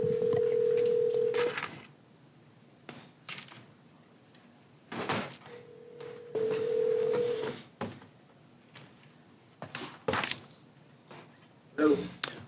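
A conference phone places a call to bring a board member into a school district board meeting, giving two long, steady ringing tones separated by room noise, thumps and people talking nearby.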